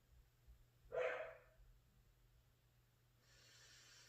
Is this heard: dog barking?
yes